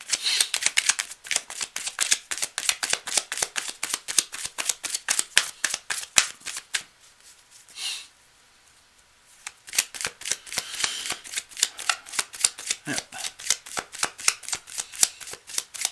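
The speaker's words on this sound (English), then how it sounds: "Cards are already well shuffled, but we're going to keep going anyway." Tarot cards are shuffled in a rapid, steady run of crisp riffling flicks, close and clear, with one brief pause midway before the rhythm resumes.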